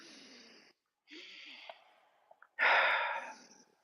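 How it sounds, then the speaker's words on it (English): Nasal breaths during a live martial-arts calisthenics session come as separate bursts of airy breath noise with silent gaps between them, the last breath the loudest and closest. "We're all breathing through the nose now."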